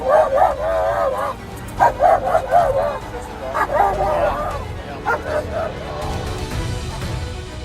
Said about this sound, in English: Let's keep the dog in there.